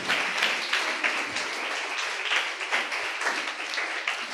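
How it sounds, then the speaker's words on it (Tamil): A congregation at a Tamil church service breaks into loud, sustained applause, many hands clapping densely and close for the whole stretch without a pause. "நல்ல கைத்தட்டி ஆண்டவருக்கு ஒரு நன்றியை சொல்லுங்கள்"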